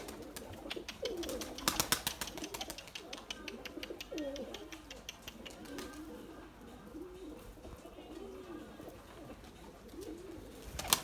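A flock of white pigeons coos continuously at a rooftop loft while birds land and take off, with a flurry of wingbeats early on and soft cooing throughout.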